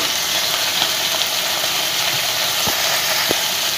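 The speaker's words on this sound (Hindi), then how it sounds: "थोड़ा सा पक नहीं जाए मैं इसको भूनते रहूँगी" Eggplant and potatoes frying in a pan with salt: a steady, bright, loud sizzle, broken by a few soft clicks of stirring, with no voices.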